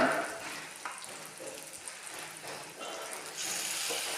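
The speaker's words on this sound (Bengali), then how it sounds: "এবার ভালোভাবে মশলাটা কষে নিচ্ছি।" Spices with onion, green chilli, ginger-garlic paste and chopped tomato frying in a pan for mutton curry, a soft continuous sizzle with occasional stirring scrapes, close and quiet.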